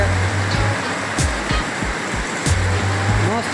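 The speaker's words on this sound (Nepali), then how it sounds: "मस्त बर्खा लागेर छ।" Heavy night-time rain in Mauritius, a steady broadband wash of downpour that runs without a break, with low rumbles and brief louder bursts passing through it.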